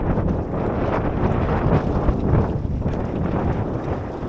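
Strong wind roars steadily over a sailboat under new sails. The noise is loud and constant, buffeting the microphone with a dense, rumbling rush, and no voices are heard.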